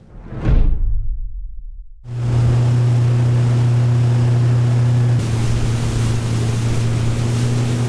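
A motorboat on Lake Usma, Latvia, starts with a swooshing rush, then its engine drones loud and steady close by, with a slight change in pitch partway through.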